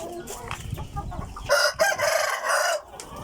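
A Shamo gamecock crows loudly and close by, a strong drawn-out call that fills the second half after some clucking and rustling at the start.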